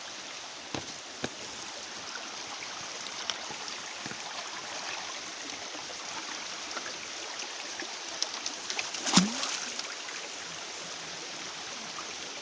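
A creek running after heavy rain near a collapsed dam, a steady broadband rush of flowing water heard close, with a few small knocks and splashes and no speech.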